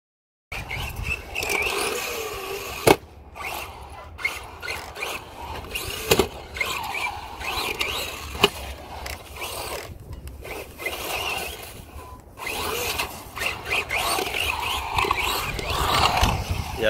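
Aluminum chassis of a Redcat Landslide RC buggy conversion scraping across pavement while driving, a continuous gritty, buzzy scrape and whine with recurring squealing bursts, fairly close and steady throughout, no voices.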